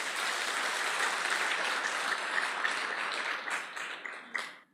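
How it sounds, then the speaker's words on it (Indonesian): A crowd at a business seminar applauding a unicorn, dense steady clapping filling the room before it thins and fades out at the end. "Mohon aplaus buat unicorn."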